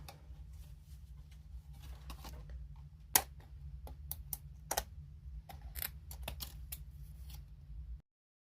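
Small scissors snipping through acetate sheet with glued-on miniature window frames, a series of short, crisp, quiet cuts at irregular intervals against faint background hum.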